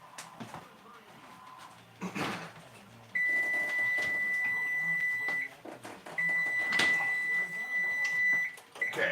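Kitchen timer beeping in a home kitchen while sausage and biscuits cook in a cast iron skillet, a steady electronic tone sounding in two long stretches amid clatter and people talking.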